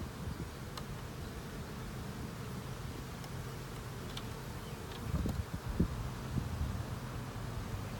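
A swarm of honey bees buzzes steadily and up close during transfer from a trap to a new colony, with a constant drone broken by a few brief knocks and handling sounds.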